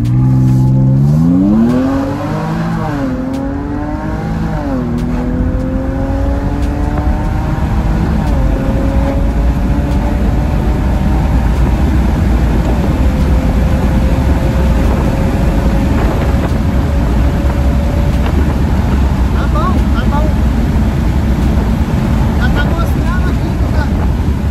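Jaguar F-Pace SUV engine accelerating while driving, with strong rising revs that climb through the gears, then a steady loud cruising drone with road and wind noise; people talk over it now and then.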